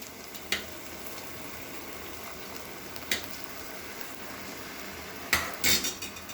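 A spoon stirs mushroom risotto with vegetable broth in a pot, soft scraping under a low simmer, broken by a few clinks against the pot and a louder clatter near the end.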